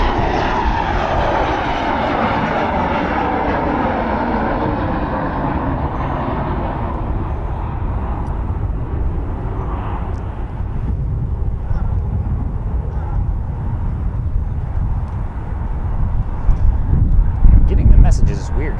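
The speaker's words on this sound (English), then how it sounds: "Got a nice takeoff running." A huge C-17 military transport jet taking off at Charlotte Douglas Airport, a loud broad engine roar that holds steady, then slowly loses its highs as it climbs away, with wind buffeting the mic near the end.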